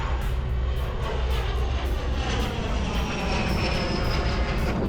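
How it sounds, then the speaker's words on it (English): A private jet takes off near an airport on Saint-Martin, its engine roar loud and sustained, rising with a faint high whine and heard alone without talk. "I'm already seeing planes taking off, like that private jet."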